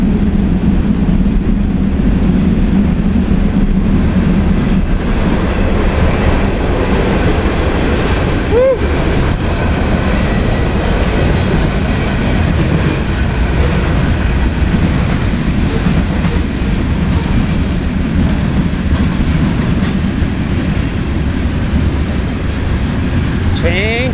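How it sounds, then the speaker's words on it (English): A long freight train passes near a road during a sunset bicycle commute, its loud, steady rumble and clattering wheels blending with heavy wind noise for the whole stretch. "Train."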